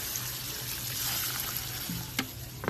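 Hot water poured into a pot of pork being cooked for binagoongan, a steady soft trickle and splash running throughout, with a few sharp clinks near the end.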